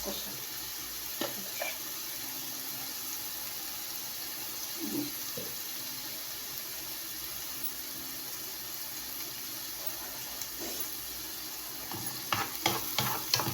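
Shakshuka frying in a pan in a home kitchen: a constant soft sizzle with occasional stirring scrapes, and sharper utensil clinks toward the end.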